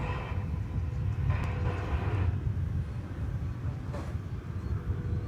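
A Boeing 787-9 Dreamliner taxiing at DFW Airport after a nearly 12-hour flight, its low, steady engine rumble continuous and moderately loud with a broad roar that swells slightly at moments.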